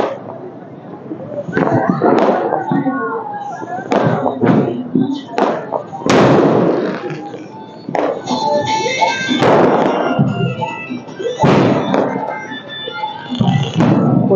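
New Year 2024 fireworks burst in a series of irregular booms and thuds, some near and some farther off, while someone talks over them.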